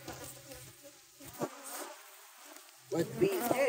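Honey bees buzzing around hive frames, faint close buzzing passes that come and go, louder near the end.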